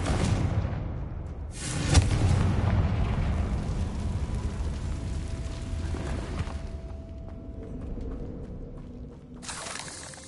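A Confringo blast curse explodes in the Hogwarts Legacy video game, a sudden loud burst followed by a long, rumbling roar of debris and fire that slowly fades, then a second crackling hit near the end.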